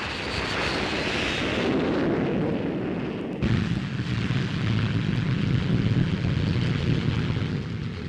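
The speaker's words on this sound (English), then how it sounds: "P-1067, the fastest fighter flying today." A P-1067 jet fighter from the 1950s RAF roars loudly and steadily, its broad engine rumble shifting abruptly partway through as if the aircraft passes. No voices are heard over it.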